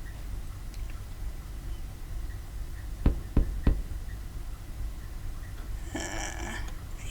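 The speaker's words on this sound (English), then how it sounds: "I hear knocking." Three sharp knocks on a wooden cabin door, evenly spaced and fairly close, stand out against a low, steady background hum, followed by a faint rustle.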